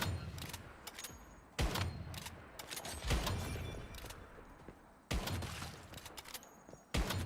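Gunfire in the Once Human game, with several sharp loud shots at uneven intervals and gritty noise in between.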